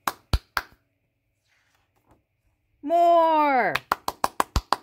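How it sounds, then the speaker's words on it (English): Hands clapping during a children's picture-book reading: a few sharp claps, a pause, then a spoken word and a rapid run of six or seven crisp claps nearby. "Now clap your hands once."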